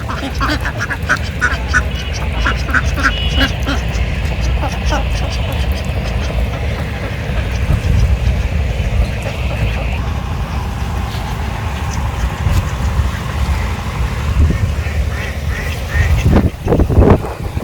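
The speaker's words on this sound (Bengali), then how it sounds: "আমি আবার হাঁস নিয়ে যাবো সাদা হাঁস বাড়ির জন্য" White ducks quacking at a village home, a busy run of repeated nasal quacks from several birds over steady background noise, fairly close and loud throughout.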